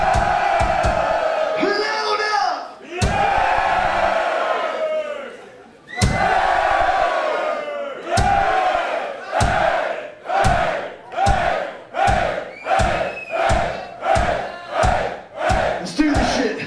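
Concert crowd at a metal show cheering, shouting and whooping in loud repeated surges, swelling into rhythmic chant-like bursts that grow steady toward the end, with a performer's voice shouting between them.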